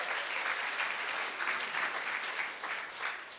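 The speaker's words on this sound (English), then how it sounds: "Come on, you guys should clap your hands." A crowd at a marketing seminar in New Jersey claps steadily, a dense, continuous applause that holds fairly even for a few seconds with no voices over it.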